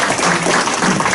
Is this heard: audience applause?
yes